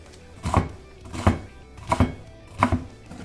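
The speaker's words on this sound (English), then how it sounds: "You just gotta cut up a lot of stuff." Knife chopping vegetables on a cutting board for chicken teriyaki chop suey: four dull, close thuds about two-thirds of a second apart, some with a quick double strike, no talking.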